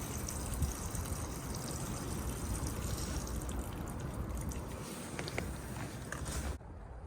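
Water drains and trickles steadily from the pipes of a 2025 Swift Voyager 485 caravan, a continuous close splashing flow that stops abruptly near the end.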